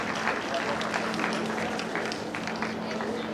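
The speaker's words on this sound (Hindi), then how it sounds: "जोरदार तालियों के साथ अभिनंदन वंदन स्वागत।" An audience applauds to welcome the chief guest at a PM Vishwakarma Yojana event on Vishwakarma Jayanti, a dense, steady wash of clapping with crowd murmur and a faint hum underneath.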